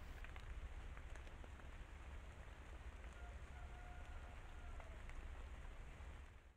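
Steady rain falls throughout, a dense hiss of drops hitting surfaces at close range, with a few faint calls from a pair of doves barely showing through.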